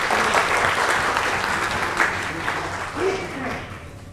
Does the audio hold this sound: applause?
yes